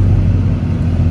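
A Dodge Hellcat car drives with a deep, loud, steady engine rumble heard from close by, no talk over it.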